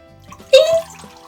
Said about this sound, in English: Let's pour some more water.